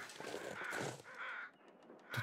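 Several crows caw in the wintry wilderness of The Long Dark, a run of harsh calls in bursts from fairly close, with a short break before a final caw at the end.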